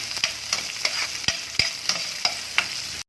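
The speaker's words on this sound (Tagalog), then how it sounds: "Laglag natin ang ating sibuyas at bawang." Onion and garlic sauté in hot olive oil for a Filipino ginisang gulay, a constant close sizzle punctuated by evenly spaced sharp clacks of stirring against the pan.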